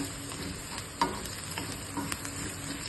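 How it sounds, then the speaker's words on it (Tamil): Spices crackle and sizzle steadily in hot coconut oil while tempering, with occasional sharp pops and faint stirring clicks, close and continuous with no talking. "தேங்காய் நெய்ல தான் தாளிக்கிறேன்"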